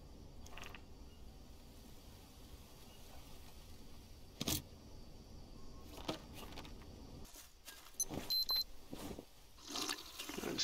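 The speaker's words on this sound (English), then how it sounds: "Sip of water." A character drinks a sip of water in the survival game Green Hell: short watery gulping sounds and a few sharp clicks over a steady jungle ambience, with no talking.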